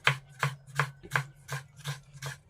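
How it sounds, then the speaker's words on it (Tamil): Knife blade chopping vegetables on a cutting board while preparing biryani, seven even, close strokes in a steady rhythm with no talking. "வேண்டிய இதை மட்டும் இப்போ ரெடி பண்ணி கட் பண்ணி வச்சுக்கிறோம்"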